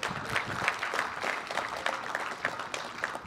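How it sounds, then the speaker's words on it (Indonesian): An audience applauds a driver at an event, producing a dense, even wash of clapping hands that holds at a moderate level throughout, with no voices clearly standing out. "Kita boleh tepuk tangan tuh pada driver yang itu."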